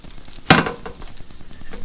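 Food sizzling in a hot pan, a sharp burst of crackle as something hits the surface, then a softer steady sizzle with light stirring noises.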